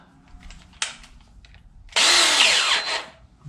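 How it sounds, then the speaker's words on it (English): A power drill with an eighth-inch bit whines briefly, then bores steadily for over a second into a hollow kayak hull, loud and close, before winding down. "So I am using an eighth inch drill bit."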